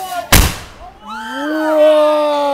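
A homemade firework bursts with one loud, close bang, followed by a rising whistling squeal that lingers as debris falls; people react loudly afterward.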